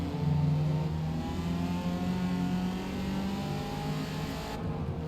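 Race cars in Forza Motorsport accelerate hard along a track, a continuous droning engine whine with rising harmonic tones, loud and steady with no talking.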